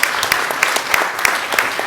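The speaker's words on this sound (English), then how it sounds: "Can we give them another round of applause?" Audience applause at a campaign kickoff event, a steady patter of many hands clapping with sharper individual claps popping out, close and fairly loud, lasting a couple of seconds.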